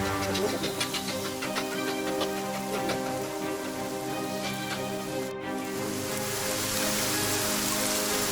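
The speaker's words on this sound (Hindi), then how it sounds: "तभी बारिश की कुछ बूंदें गिरने लगी" Steady rain falling on a garden in Darjeeling, a dense continuous patter of drops under dark clouds, even and moderately loud throughout with no voices.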